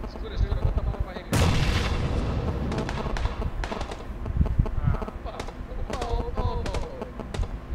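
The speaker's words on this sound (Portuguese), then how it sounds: "ele deu um tiro" Gunfire in the video game PUBG comes as a sharp loud burst followed by scattered shots and clicks, mixed with game noise while players talk excitedly over it.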